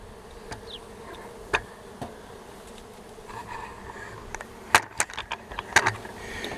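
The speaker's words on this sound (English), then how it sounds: "you can see our bees are working right down in between these cracks here" A steady low insect buzz from many honey bees working inside an opened hive after smoking, close by, with scattered sharp clicks and brief crackles over the drone.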